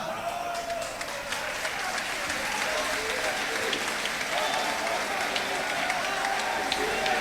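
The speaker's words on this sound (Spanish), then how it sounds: "Yo os aplaudo, amigos, de verdad." Sustained applause from a crowd, dense and steady for the whole stretch with a few voices mixed into the clapping.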